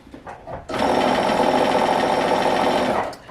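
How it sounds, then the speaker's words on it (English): Sewing machine stitching a Christmas panel quilt, a few faint taps then a steady, close buzzing run of rapid stitches lasting about two and a half seconds before stopping. "That's just how the machine is. So let's try this again with patience."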